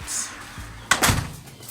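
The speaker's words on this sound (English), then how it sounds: "Unlock the door." A house door is unlocked and pushed open: a brief low click, then a sharp clack and a short rattling burst as it swings, fairly close and loud with no talk.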